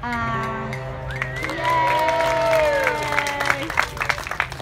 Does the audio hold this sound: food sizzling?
no